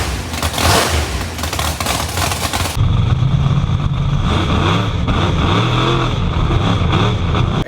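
Pontiac GTO engine revving loudly and continuously, a dense roaring drone with rising and falling pitch as the throttle is worked, near and steady throughout.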